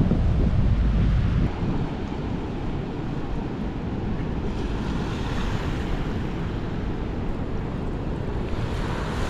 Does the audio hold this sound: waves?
yes